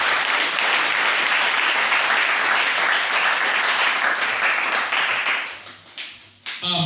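A congregation at an evangelical church service breaks into loud, sustained applause that fills the room evenly, then thins and fades out toward the end.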